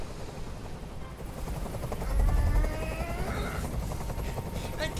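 Helicopter noise in the video game Detroit: Become Human, a low rotor thrum that swells and stays constant beneath tense speech.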